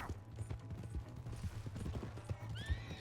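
Horse in the game Red Dead Redemption 2, with rapid clip-clopping hooves nearby, some creaking tack, and a high whinny rising near the end.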